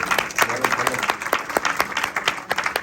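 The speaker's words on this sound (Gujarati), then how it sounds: "ચેતનભાઈ, મયુરભાઈ, મેહુલભાઈ અને એમડીને તાળીઓ પાડીને આપણે વધાવીએ" An audience at a Gujarati ceremony in London claps in a dense, continuous burst of applause close by, with voices mixed in underneath.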